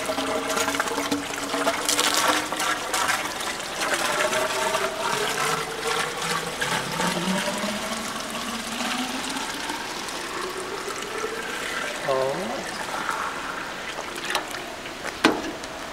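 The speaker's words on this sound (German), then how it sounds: "Wir schlabbern hier jetzt mit dem Wasser rum." Running water gushes and churns steadily, with rising and falling tones like filling or sloshing, plus occasional small knocks.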